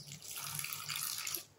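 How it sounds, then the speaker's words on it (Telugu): Water pouring into rice flour for dough, a steady close splashing trickle lasting under two seconds with no talking. "వాటర్ వేసుకుని కొంచెం కొంచెంగా కలుపుకోవాలి"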